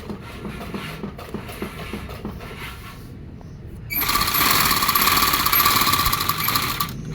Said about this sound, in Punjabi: ਜਿੱਪ ਦੇ ਉੱਪਰ ਉੱਪਰ ਸਲਾਈ ਲਾਉਣੀ ਹੈ